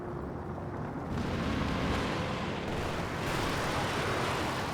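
Artillery shelling in Company of Heroes 2, a dense, continuous rumble of distant blasts with a heavier burst joining around the one-second mark, sustained and loud throughout without any voices.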